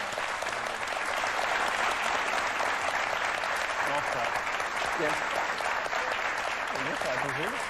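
A television talk show studio audience delivers sustained loud applause, a thick continuous clatter of many hands, while a voice calls out briefly over it near the end.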